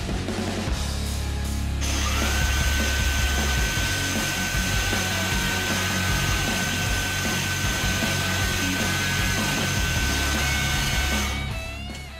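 Milling a negative chamfer on a steel lathe insert holder for an SOMX 060304 insert, a loud, continuous grinding whir of the mill cutting close up, steady for about ten seconds before winding down.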